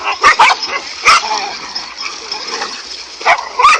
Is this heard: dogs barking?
yes